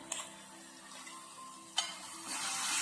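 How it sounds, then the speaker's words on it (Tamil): A ground paste of coconut, coriander, fennel and green chili fries in a pan with a soft, steady sizzle, a couple of sharp utensil clicks and a hiss that swells louder near the end. No one speaks. "லேசாக பச்சை வாசனை போகிற அளவுக்கு வதக்கிக்கலாம்"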